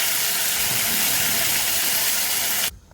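Chutney tempered with mustard seeds, cumin and curry leaves cooks in a pan, giving a loud, steady, close hiss of sizzling that stops abruptly just before the end.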